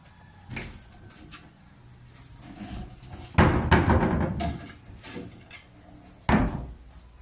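Cabinet drawer in a three-storey townhouse opened and shut, a few wooden knocks and sliding thuds, the loudest around the middle and a final bump near the end, close by with no talk.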